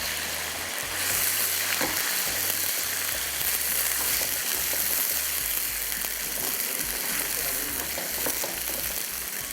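Boneless chicken leg and thigh cubes fry in a hot pan with spices, a steady loud sizzle running the whole time with occasional stirring noises and no talking.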